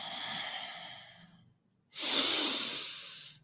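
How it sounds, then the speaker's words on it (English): A strong, steady exhale through the nose during Kundalini yoga, a close breathy hiss lasting over a second after a softer breath and a short pause. "Exhale."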